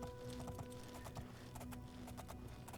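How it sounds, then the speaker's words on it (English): Quick clip-clop of a fast horse's hooves galloping in The Elder Scrolls IV: Oblivion, a steady repeating beat kept fairly quiet and low under faint ambient game sound, with no talking. "I do have the fastest horse"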